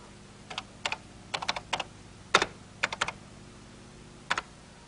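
Keys clack on a 1983-era computer keyboard as a Logo turtle command is typed: about a dozen crisp, close keystrokes in small uneven clusters with brief pauses, in a quiet room.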